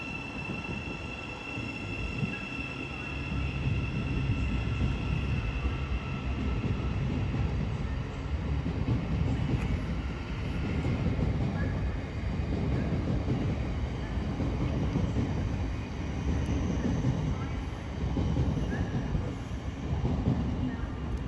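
A train rumbles through Peterborough station on the East Coast Main Line, a steady, fairly loud rolling roar with faint wheel squeal, heard without speech.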